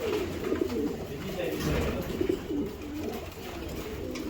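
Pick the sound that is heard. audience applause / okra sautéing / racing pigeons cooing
racing pigeons cooing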